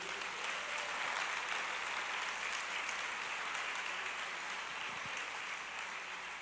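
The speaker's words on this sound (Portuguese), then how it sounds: "Você pode aplaudir o Senhor?" A congregation applauding in church during a sermon, a dense, even wash of clapping from many hands that holds steady throughout, heard from a distance at moderate level with no voices over it.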